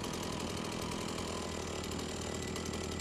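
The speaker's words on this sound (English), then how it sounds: "It's obnoxious, but we have a chainsaw." Chainsaw running in the video game Beyond Hanwell, a steady buzzing engine drone held continuously and fairly loud with no talk over it.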